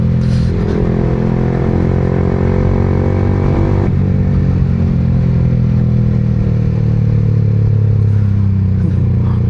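A 2025 Yamaha R15M with a 155cc liquid-cooled engine and quick shifter runs at high speed, its loud, steady engine drone and wind roar continuous, with a brief pitch change from a gear shift partway through.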